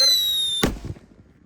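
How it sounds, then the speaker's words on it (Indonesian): A Jumbo Whistling Thunder firecracker shrieks with a high, steady whistle that ends in one loud, close bang, followed by a short crackling tail and fading rumble. "Kita nyalakan Jumbo Wesseling Thunder."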